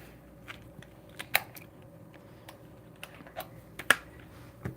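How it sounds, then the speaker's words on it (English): Small manicure scissors snip through stiff cosplay material for a Springtrap build, giving a series of sharp, irregular clicks and crunchy cuts close up, several loud snaps standing out against a quiet background. "I'm gonna take out manicure scissors. They might not be strong enough, but let's try."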